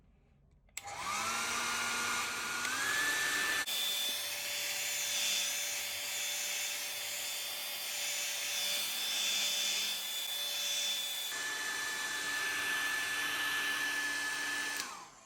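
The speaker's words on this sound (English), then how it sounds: "Use a heat gun or hairdryer to heat up the surface of the back panel." A hair dryer heating the back panel of a Google Pixel 3 phone whirs on with a rising whine and runs steadily and loud for a long stretch, its pitch shifting slightly partway through before cutting off.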